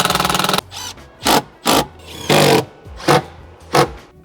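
A power screwdriver drives screws into brackets inside a van: a continuous buzzing run first, then a series of short separate bursts with pauses between, close and fairly loud.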